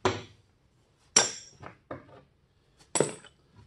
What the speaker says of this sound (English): Take these bolts off here before they fall off on the ground.